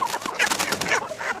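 Chickens on a poultry farm cluck and squawk in a dense, continuous flock chorus, busy and fairly close, with no talking over it.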